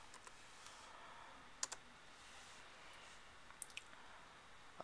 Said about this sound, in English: We're just gonna type GBA